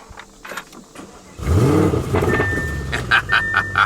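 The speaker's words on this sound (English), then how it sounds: "we're actually going to start the car up" An Audi RS7 engine cranks and catches partway through, settling into a loud, rumbling idle, with electronic beeps chiming in near the end.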